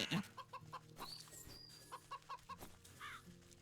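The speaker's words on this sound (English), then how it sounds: "There's two chickens here." Chickens cluck in the Wytchwood video game, a run of short, evenly spaced clucks over soft game background tones, faint and without talk.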